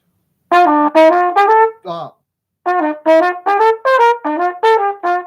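A bright trumpet swing line of short, tongued, detached notes with gaps between them, punchy accents on the offbeats, played alone.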